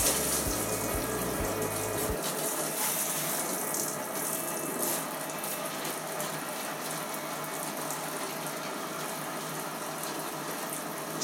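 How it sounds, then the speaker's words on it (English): Shower water gushes steadily over the condenser pulled from a Zanussi tumble dryer, hot and cold mixed, a continuous close hiss and splash with a brief low hum at the start and no talk. "you want to use both hot and cold water from the shower"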